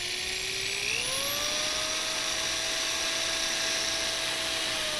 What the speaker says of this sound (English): we're going to drill a pilot hole